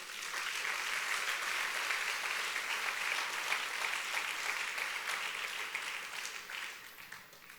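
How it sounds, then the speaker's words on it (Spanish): Steady applause from a church congregation, dense clapping that holds for several seconds before tapering slightly at the end. "Dale un buen aplauso al Rey."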